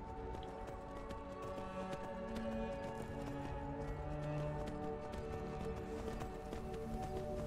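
Horse hooves clip-clop steadily in Skyrim, a continuous run of muffled footfalls beneath layered in-game music and ambience, with no talk over it.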